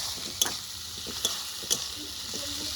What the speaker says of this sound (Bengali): একটু পেঁয়াজ ভেজে নিচ্ছি